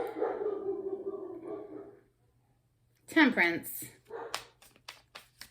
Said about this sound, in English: Sorry about my dog. I think somebody's at the door.